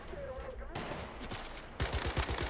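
Rapid bursts of automatic gunfire in the survival shooter Once Human, clearing enemies from a room in the Silo Sigma area; a steady chatter of shots gives way to louder, punchier bursts near the end.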